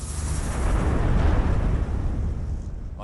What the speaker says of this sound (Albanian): një shpërthim i fuqishëm trondit platformën shpuese Deepwater Horizon.